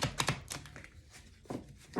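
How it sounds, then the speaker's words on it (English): Tarot cards being shuffled by hand, a few quick riffling snaps and papery flicks near the start, then a quiet pause before another short burst of card noise at the end. "when I try to shuffle the deck and it gets stuck like that"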